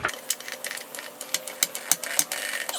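A car jack is pumped to lift a vehicle, giving a quiet run of light, irregular clicks and rattles with no talking.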